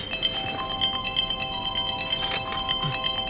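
A mobile phone ringtone plays for an incoming call inside a car, a steady repeating electronic melody heard close and clear with no talk over it.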